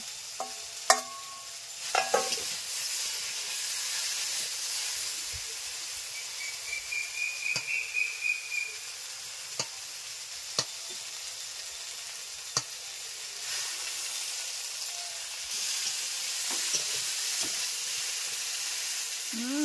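Fish roe fries in a pan of shukto with a soft, continuous sizzle and hiss, and occasional sharp clicks and scrapes come from stirring.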